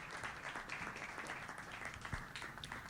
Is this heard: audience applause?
yes